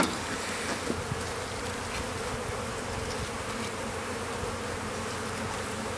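Bees buzzing steadily around an open hive as smoke is applied while a hive tool removes a final piece, a dense continuous drone close by with no pauses or talk.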